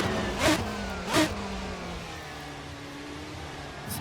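A Praga R1 V8 race car lapping Tsukuba circuit, its engine droning steadily from on board with two short surging bursts early on, then a sustained, even pull.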